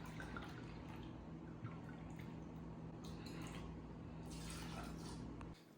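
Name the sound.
pouring dry red wine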